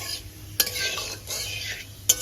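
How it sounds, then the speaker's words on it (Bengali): Cumin and bay leaf frying in hot oil for a lentil and prawn dish, a steady close sizzle broken by two sharp spatula scrapes against the pan. "সেই তেজপাতাটা ফোড়নের থেকে সুন্দর গন্ধ বেরোনো পর্যন্ত ফোড়নটাকে ভাজা ভাজা করে নেব"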